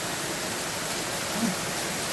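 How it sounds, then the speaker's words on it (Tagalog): Steady, heavy rainfall roars as a dense, even hiss with no pauses, close by and loud throughout. "napakalakas ulan"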